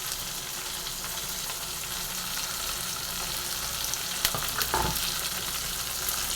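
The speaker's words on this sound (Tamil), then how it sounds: "இப்போ எல்லாமே சேர்ந்து வதங்கட்டும்." Onions, curry leaves and whole small green chillies sauté in hot oil for a Tamil onion tamarind curry, giving a steady close sizzle with a few brief clinks of stirring near the end.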